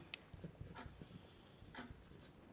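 Writing on a board during a biology lecture, light scratchy strokes and taps in an irregular rhythm, faint and close, with no talk over them.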